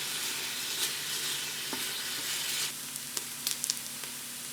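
Bacon crisping on the saute setting of an Instant Pot gives off a steady, close broadband sizzle, with a few sharp fat pops and crackles toward the end and no talking.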